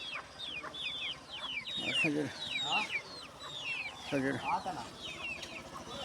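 Chickens squawk and cluck in agitated bursts while being chased by dogs, shrill calls rising repeatedly at mid distance, with someone speaking now and then.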